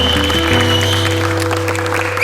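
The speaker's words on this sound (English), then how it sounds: "another round of applause for Greg Cannon" A round of applause breaks out for Greg Cannon at a picture wrap on a film set, steady clapping over a droning hum with faint tones, continuing throughout without speech.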